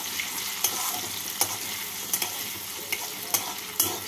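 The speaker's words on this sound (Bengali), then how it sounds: "এই তেলের মধ্যে আমি দিয়ে দিচ্ছি টুকরো করা গাজর। গাজরগুলোকে নাড়াচাড়া করে নিচ্ছি।" Carrot pieces stirred and fried in hot oil, a steady close sizzle broken by several sharp scrapes of a spoon against the pan, with no voices.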